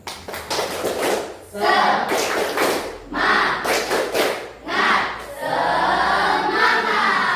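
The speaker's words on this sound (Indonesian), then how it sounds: "Masih ingat tepuk semangat?" A classroom of students claps out a rhythmic 'tepuk semangat' cheer during an ice-breaking moment in an English lesson, with bursts of patterned claps and group chanting voices in repeated phrases.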